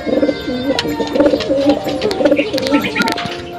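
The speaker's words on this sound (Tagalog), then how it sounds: "yung kalapati nating apat na pinakawalan" Pigeons coo repeatedly in soft, rhythmic rolling calls close by, with some faint talking and light rustling in the background.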